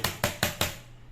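A coin taps an aluminium alloy 45L motorcycle top box four times in an even rhythm, each sharp metallic tap ringing briefly before fading, then quiet.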